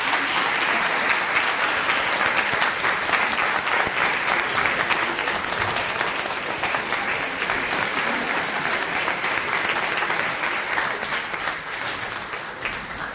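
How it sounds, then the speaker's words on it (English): A meeting audience at a Women In Philanthropy gathering applauds loudly and steadily for over ten seconds, a dense, even wash of clapping that tapers only slightly at the end. "I want to give a really big round of applause to the amazing women behind me for all the"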